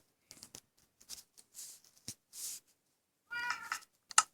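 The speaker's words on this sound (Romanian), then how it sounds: "Pisica plânge, bă." A Minecraft cat meows in a game, several short, fairly quiet meows spaced apart with pauses between them, ending in a sharper, higher cry.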